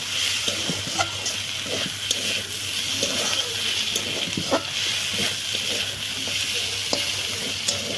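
Steady sizzling of greens frying in a pan, with scrapes and clinks of a spatula stirring at irregular intervals throughout.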